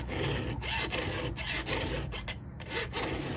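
Hand filing a chainsaw chain: a steady, close scraping rasp with repeated file strokes over faint background hum.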